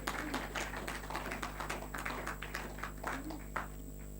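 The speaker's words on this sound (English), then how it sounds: "Please clap for them again." Scattered audience clapping at a 20th anniversary celebration of a blood transfusion service, a thin patter of hands in a hall with a steady hum beneath.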